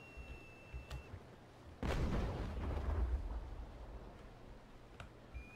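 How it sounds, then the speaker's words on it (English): Ship cannon fire in the naval combat game Naval Action: one loud, booming broadside blast that rolls on and fades over a couple of seconds, with a couple of fainter thuds around it. "we're going to see what kind of height we can get on these shots"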